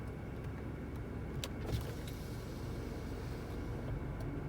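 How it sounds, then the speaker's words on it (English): A 2016 Jaguar XF 25t Prestige power rear sunshade hums quietly as its electric motor runs steadily inside the car cabin, with a few faint clicks and no talking. "This button allows you to control the car's rear sunshade. Let me demonstrate that."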